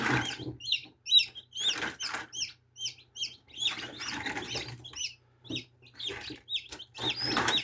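A cluster of newly hatched crossbred chicks from an incubator cheeping constantly in high, rapid peeps, close by, with no talking.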